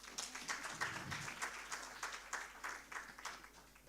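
An audience at a Pan African youth conference on African unity and development claps for the panelists, a steady, fairly loud patter of many hands filling the whole stretch, with a faint voice just underneath.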